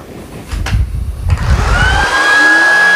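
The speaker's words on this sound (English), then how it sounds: "I really don't wanna accidentally drop this vacuum." Shark Vertex cordless vacuum switched on in multiplex mode over carpet and floors: a low rumble kicks in, then a steady, loud motor whine with a rising tone that holds to the end, with no talking.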